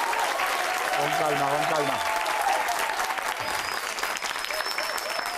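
A studio audience claps steadily throughout a television program, a dense, even applause close to the microphone, with people speaking over it.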